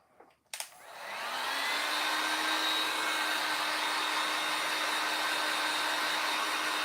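A hair dryer runs steadily on a homemade cookie and cocoa riser craft, switching on after a brief click and holding a loud, even whir close by with no talking.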